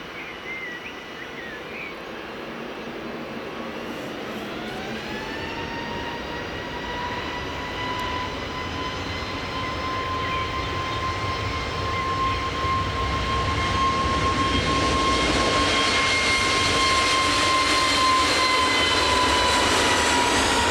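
A 12-year-old ATR 72-600 turboprop departing Manchester Airport drones steadily with a rising engine tone and propeller whine, growing louder and nearer over about twenty seconds, with no voices.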